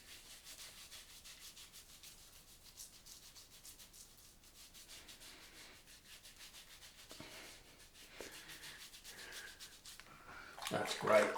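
Wet fingers rub shaving product into the face in soft, continuous, close friction, quiet throughout and growing slightly louder near the end.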